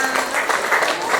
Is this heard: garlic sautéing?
no